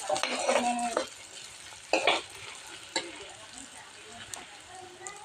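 Onions frying in a pan for chicken liver fry, a soft sizzle with a few louder stirring and scraping bursts, heard fairly close with quiet stretches between.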